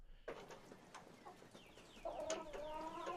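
Chickens clucking at a backyard coop, soft scattered clucks early on, then louder, nearer clucking and calls in the final second over a low outdoor background.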